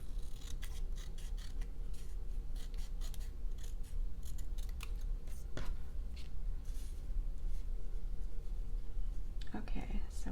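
Scissors snip and trim sheets of fall crafting paper for an autumn collage, with soft repeated cuts and paper rubbing close by over faint whispery background.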